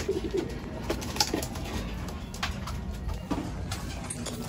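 Pigeons coo softly in low, repeated calls against a steady background hum, with a few scattered clicks and light knocks nearby.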